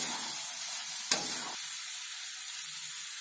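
Spices and masala fry and sizzle in a pan while being stirred, a soft continuous crackle with one brief louder scrape of the spoon, and no voices.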